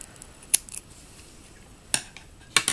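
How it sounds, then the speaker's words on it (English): Scissors snip through a yarn tail during crochet work on baby booties, a few sharp isolated cuts, close and quiet. "And then I'll cut the tail there."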